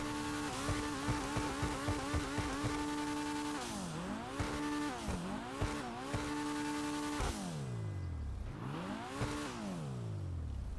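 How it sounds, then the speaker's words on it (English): A Pfister Growler sports car in GTA Online revs hard, its engine pitch climbing and dropping in repeated sweeps, with turbo whine and blow-off valve hiss between bursts, loud, close and without talk. "All right, let's give it some gas and rev it up here."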